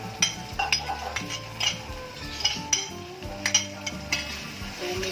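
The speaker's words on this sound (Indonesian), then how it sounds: "Ini ditumis sampai benar-benar layu." Spices being stir-fried in a pan for Meranjat-style pindang tulang, with repeated metal utensil clinks and scrapes against the pan in an irregular rhythm, close and moderately loud, with faint sizzling underneath.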